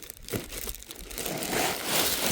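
A slightly torn plastic bag of fish food is handled up close, giving continuous crisp crinkling and crunching that grows busier toward the end.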